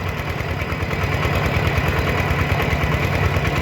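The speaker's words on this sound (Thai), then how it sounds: "รถไถใหญ่" A steady, low diesel engine of a large farm tractor idling nearby, chugging evenly with a constant mechanical thrum and no voices.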